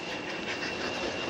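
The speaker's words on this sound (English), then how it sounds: "George, are you sure that this is the right train that we are going for?" A train rumbles steadily with a broad, hissing roar and faint rolling clatter, continuous and fairly close, with no voices over it.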